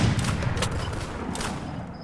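Rapid gunfire from the Free Fire Clash Squad mobile game, a quick burst of several close shots at the start followed by scattered fainter shots and game effects.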